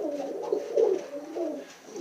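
A Portuguese tumbler pigeon coos in low, rolling phrases, two or three soft pulsing bursts heard up close with no talking.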